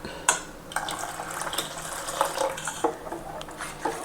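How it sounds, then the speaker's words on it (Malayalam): Water splashes and trickles into a bowl of egg palada batter, with a few sharp clinks and wet plops standing out over a steady pouring wash. "ഇനി വീണ്ടും കുറച്ച് വെള്ളം ഒഴിക്കുകയാണ്"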